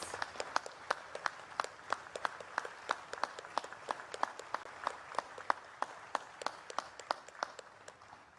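Quiet, distant applause from an audience honoring veterans and national military leadership, individual claps standing out in a fairly even rhythm over a soft wash of hands throughout.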